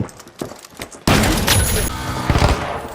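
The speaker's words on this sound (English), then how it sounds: "Frag grenade out!" A frag grenade goes off in a shooter video game, a sudden loud close blast that rolls into a sustained rumble with debris-like crackle, following a few seconds of quieter gameplay sounds.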